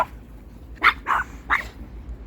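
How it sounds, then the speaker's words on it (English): A dog outdoors gives three sharp, close barks in quick succession, then falls quiet, with nobody speaking. "Why are you barking?"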